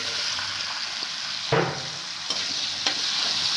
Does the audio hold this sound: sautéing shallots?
yes